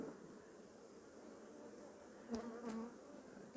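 Honey bees buzz steadily during a beehive inspection, a soft close hum with a few brief louder passes near the end.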